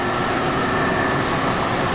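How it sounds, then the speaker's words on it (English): One of three generators runs in the engine room of a 2023 Numarine 37XP superyacht, a loud, steady mechanical roar and hum that does not change, with no voices. "We've got generator here."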